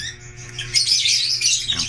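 Sharp, shrill squawks from pet parakeets and lovebirds burst out in a quick cluster, close by and fairly loud.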